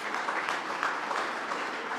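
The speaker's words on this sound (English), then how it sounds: "A round of applause, please, for our speakers." Audience at a data science Q&A session of a global summit applauds the speakers leaving the stage, a steady wash of clapping at moderate level lasting throughout, with no talk over it.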